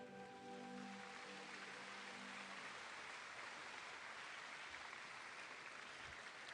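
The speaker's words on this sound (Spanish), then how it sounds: "Denle un fuerte aplauso a Jesús" A church congregation applauds during a sermon, with dense, loud, continuous clapping filling the space like heavy rain. Sustained tones from an instrument ring underneath at the start.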